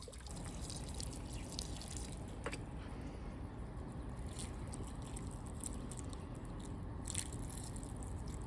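Water pours steadily into an asparagus fern's container, a continuous close splashing and trickling with a few brighter drips, no voices.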